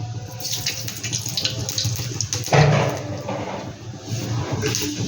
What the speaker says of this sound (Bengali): এনে দিয়ে দিলাম একটু জিরা ফোড়ন